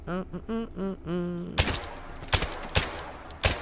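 Gunshots fired at apples in the VR shooting game H3VR, four sharp loud reports spaced unevenly over a few seconds, following a short stretch of a voice speaking.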